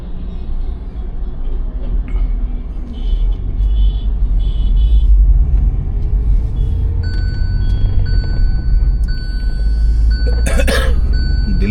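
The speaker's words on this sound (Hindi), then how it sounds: "मॉर्निंग का टाइम है तो हैवी ट्रैफिक काफ़ी है।" Heavy morning road traffic on a highway toward Mathura and Delhi, heard from inside a Hyundai i10: a steady, loud low rumble of engines and tyres that continues for the whole stretch, with a few passing vehicles and a brief cough-like burst near the end.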